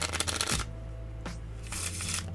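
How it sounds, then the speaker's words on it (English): Playing cards riffle shuffled face up into face down, with a short burst of fluttering card riffles at the start and another near the end, separated by a quieter stretch. "riffle shuffle in the opposite way, so face up into face down"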